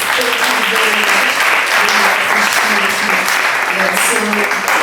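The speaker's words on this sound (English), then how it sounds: "So one last round of applause to our panelists." An audience at an IEEE AESS congress panel session applauds the panelists with a dense, steady wash of clapping lasting several seconds.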